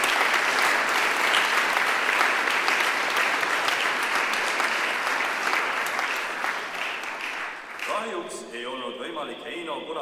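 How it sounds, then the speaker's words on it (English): Audience applause at a university anniversary academic ceremony, dense and sustained from a large crowd for about eight seconds before thinning out, with a voice starting to speak near the end. "let's give him a big round of applause anyhow"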